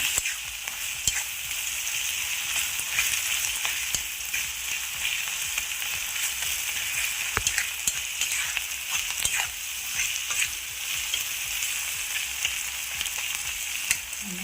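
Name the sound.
small onions frying in a pan for pappadam thoran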